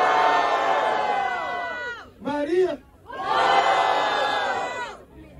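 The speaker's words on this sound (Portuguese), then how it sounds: "Barulho para Maria." Crowd at a rap battle semifinal roars with cheers and shouts, a loud sustained wave of voices that dips briefly into a few whoops, then surges again before fading.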